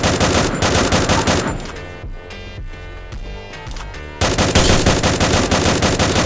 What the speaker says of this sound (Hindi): मैं उसके पास भागते हुए गया और फिर गोलियां बरसाने लगा।